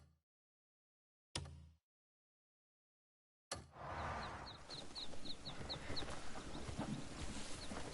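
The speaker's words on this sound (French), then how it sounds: "Hein, le coq?" Rooster crowing in the video game Crimson Desert, a single loud crow after two short bursts and silences, followed by dense ambient game sound with chirping birds.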